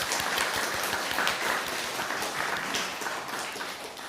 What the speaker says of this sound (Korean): 박수로 환송하겠습니다.